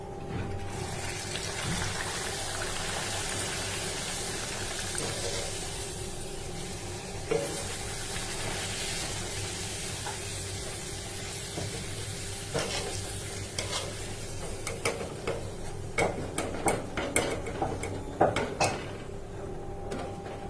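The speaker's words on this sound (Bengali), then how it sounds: "তাই এখন গরম গরম লুচি বানানো হচ্ছে।" Luchi puffed flatbread deep-fries in hot oil, a steady close sizzle with occasional stirring clinks and scrapes, growing busier toward the end.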